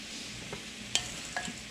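A spoon stirs onions browning in a soup pot, a soft continuous sizzle broken by a few brief scraping knocks, close and quiet.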